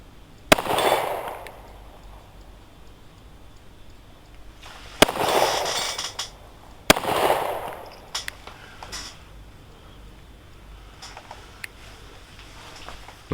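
Sharp 9mm shots from a Staccato C DUO pistol ring out outdoors, three loud cracks spaced seconds apart, followed by fainter ticks and pings from steel plates on a Texas Star target at 50 yards.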